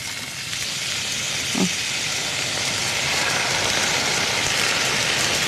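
Fish cake stir-fried in an oiled pan gives a steady, loud broadband sizzle and hiss that holds throughout, with a brief low scrape partway through.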